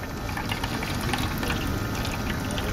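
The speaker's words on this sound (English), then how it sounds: "the pump started. So the water started flowing." A motor pump pushes water into a cup in a steady, dense rush of flowing and splashing liquid. The sound is loud and continuous, with no talking.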